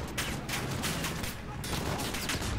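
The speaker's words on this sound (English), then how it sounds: "I can't tell where shots are coming from." Rapid bursts of gunfire from the Modern Warfare campaign crackle steadily through a short, dense stretch, with shots overlapping and no clear pauses.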